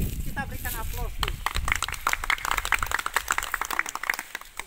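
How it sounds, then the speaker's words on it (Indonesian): Audience applause at a school farewell ceremony for teaching-practice students, beginning under a voice and swelling into dense, sustained clapping from a crowd close by. "Kita berikan aplaus tuh."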